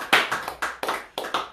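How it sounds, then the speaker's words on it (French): A church congregation clapping hands in praise of Jesus, a short run of about six sharp, evenly spaced claps in a steady rhythm, moderately loud with a slight room echo. "Est-ce qu'on peut applaudir pour Jésus?"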